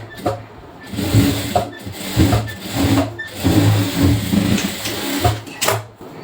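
A sewing machine stitches a blouse seam a quarter inch from an earlier line, running in loud, close, rhythmic bursts of rapid mechanical chatter separated by brief pauses.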